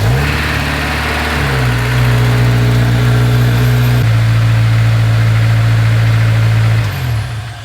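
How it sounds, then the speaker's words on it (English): A Honda S2000 (AP1) engine, just rebuilt with new valve retainers, runs at a loud, close, steady idle with a brief higher fast-idle at the start, a small step in pitch midway, and settles lower at the end. "Let's go ahead and fire it up,"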